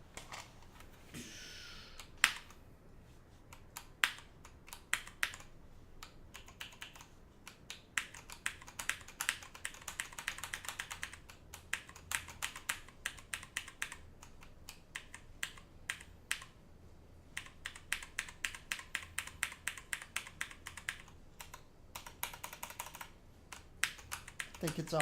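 Fast typing on a computer keyboard during a Marvel Heroes gaming session, with bursts of sharp, close key clicks in quick runs and brief pauses, fairly quiet overall.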